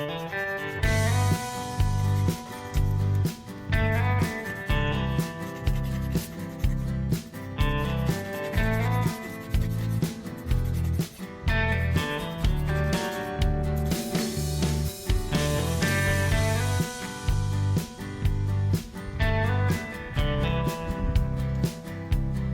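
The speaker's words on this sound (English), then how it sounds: "First, prepare sandpaper number 180. Then rub the end of the rope until it is even." Sandpaper number 180 rubbing the end of a rope, with repeated rhythmic back-and-forth scraping strokes, close and loud, continuing steadily with brief pauses.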